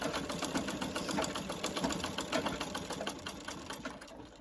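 A foot-powered treadle sewing machine, running without electricity, stitches a strip quilt with a fast, even mechanical chatter close by, holding steady for several seconds before easing off at the end, with no talk.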